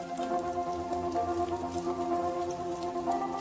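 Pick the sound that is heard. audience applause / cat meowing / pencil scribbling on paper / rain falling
rain falling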